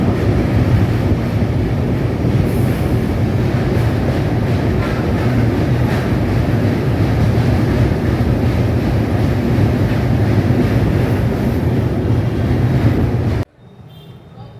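A passenger train near Benares rumbles steadily and loudly from inside the coach, a continuous low roar with rattling, cutting to near quiet at the very end.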